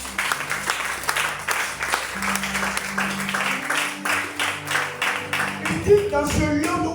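A church congregation at a French-speaking prayer and fasting service claps to acclaim the Lord, giving sustained loud applause with rhythmic clapping over a sung or played tone before it thins out near the end.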